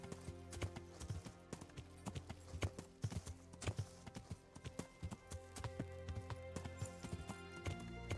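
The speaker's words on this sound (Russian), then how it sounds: "пока мы скачем на лошади" Horse hooves clatter along a dirt trail in the medieval video game Kingdom Come Deliverance, a quick rhythmic clip-clop of galloping steps, fairly close and crisp, with a brief whinny-like tone and no talk.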